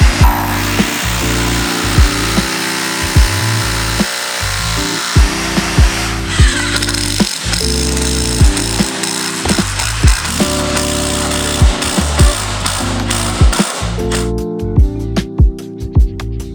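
Loud, repeated bursts of heavy hammer drilling into the floor to anchor a wall, each run lasting a second or two with short pauses, close by and continuing steadily.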